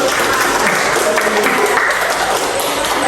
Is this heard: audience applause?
yes